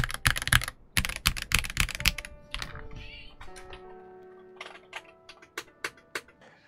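Typing on an LTC NB1041 Pro full-size mechanical keyboard with unlubed switches and a steel plate: a fast flurry of crisp, close key clicks and clacks, then slower, sparser keystrokes with pauses between them.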